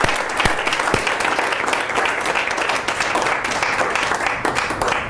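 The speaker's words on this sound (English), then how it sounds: "Let's give him a round of applause." Audience applause at a keynote speech in a club, a dense, loud burst of many hands clapping that holds steady for several seconds, with a few sharper claps standing out near the start.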